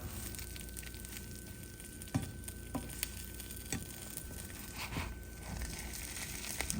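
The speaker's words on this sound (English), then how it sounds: "I'm just stirring it around to get all the excess butter out the pan onto my bread." Buttered bread fries in a pan for a grilled cheese and meat sandwich, giving a faint, steady sizzle broken by a few soft clicks and scrapes as it is moved around.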